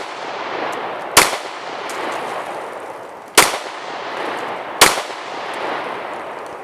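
Three loud, sharp pistol shots ring out from a Glock fitted with a weapon light and laser, spaced unevenly a second or two apart. Each crack decays quickly over a steady outdoor background hiss.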